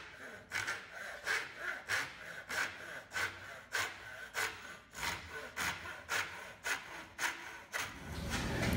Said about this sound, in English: I'm just going to come through and make a cross cut on these at each of these points here